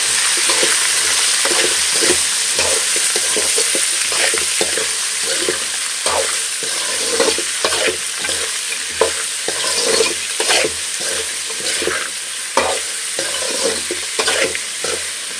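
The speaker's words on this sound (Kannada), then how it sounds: "ಇವಾಗ ಚೆನ್ನಾಗಿ ಫ್ರೈ ಮಾಡ್ಕೋಬೇಕು" Turmeric and salt fry in a pan on a home stove, a steady loud sizzle running close throughout with frequent stirring scrapes and clinks of a spoon against the pan.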